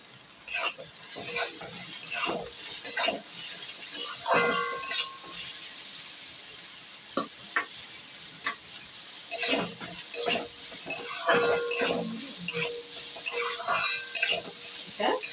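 Lightly steamed beans and carrots stir-fried in a pan with fried onions for Chinese-style mixed fried rice, a quiet sizzle broken by repeated scraping and clattering strokes of a spatula, no voices.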